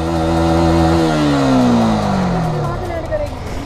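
A motorbike engine revving and holding steady with a makeshift cruise control, a loud sustained whine with a falling pitch sweep, then settling into a rougher idle with some rattling.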